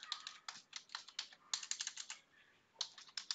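A password is typed on a computer keyboard into a bash script: quick, close clusters of light key clicks with a brief pause before a final burst.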